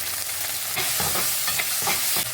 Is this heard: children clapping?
no